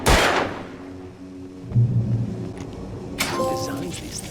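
Gunshots fired at a stack of tin cans in the video game Alan Wake, a sharp burst at the start followed by further dull thuds and rattling impacts, with music playing underneath.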